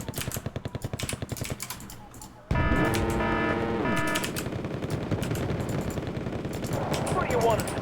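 Rapid rhythmic machine-gun fire in the Wargame: Red Dragon strategy game, a steady stream of close shots that briefly stops, then resumes under a louder engine-like drone and overlapping bursts.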